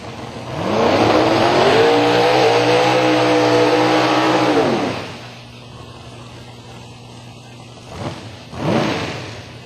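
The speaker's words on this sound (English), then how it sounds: "Chris Daniels in the Firebird with the big Fulton under the hood." A 2000 Firebird race car with a big Fulton engine roars loudly at Silver Dollar Raceway, holding a revving drag-strip launch for several seconds before fading, then brief engine bursts return.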